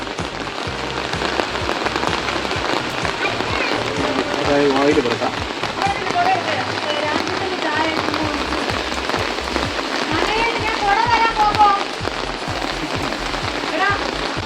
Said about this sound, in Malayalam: മഴ മഴ മഴ മഴ